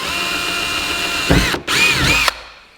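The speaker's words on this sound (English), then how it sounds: "I drilled my trunk" A power drill boring into a car's trunk, loud and close, whirring steadily and then rising in pitch under load, pausing briefly and then spinning again before it stops.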